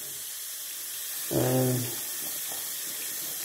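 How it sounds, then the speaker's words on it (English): Hot water gushes from a tap fed by a restarted Stiebel Eltron instantaneous heater, a short hissing burst over steady background noise, with a brief spoken word nearby. "got hot water coming through now"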